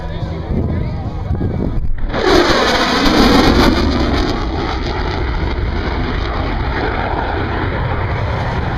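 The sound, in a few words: F/A-18 Super Hornet jet high-speed pass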